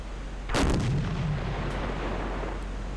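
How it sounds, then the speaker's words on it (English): A submarine deck gun in Silent Hunter 4 fires a single heavy boom that rolls into a low rumbling tail over steady background noise. "gonna let the gun crew, like I said, get some gun practice"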